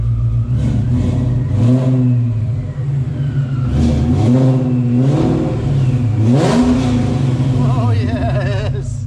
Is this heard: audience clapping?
no